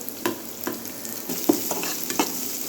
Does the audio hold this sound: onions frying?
yes